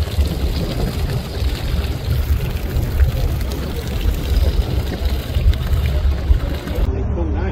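A tour boat cruising on the lake at Waimangu Volcanic Valley, New Zealand: a continuous low engine rumble with water rush and wind noise, close and steady throughout, with speech faintly present.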